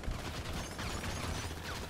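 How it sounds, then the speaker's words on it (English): Rapid gunfire bursts in GTA 5, with shotgun blasts mixed into a dense, continuous volley of shots; loud and close, with no talk over it. "I got the other person with a shotgun"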